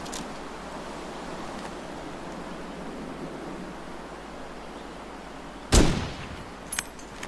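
Gunfire in The Long Dark, a single sharp, loud rifle shot about two-thirds through that rings out over a steady windy hiss, followed by a fainter click.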